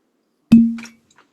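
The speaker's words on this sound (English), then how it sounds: "I think it was a pretty solid cork pop" A cork comes out of a bourbon bottle finished in a California Cabernet Sauvignon cask, making one sharp, close pop with a short ringing tail, followed by a faint slosh.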